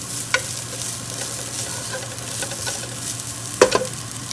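Frozen grated coconut roasting dry in a pan, a soft steady sizzle with occasional scraping stir strokes and a sharper spatula clatter near the end, no talking.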